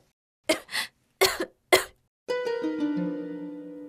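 An elderly mother in an animated folk-tale cartoon coughs four times in quick, harsh bursts, close and clear, followed by a sustained tonal sound.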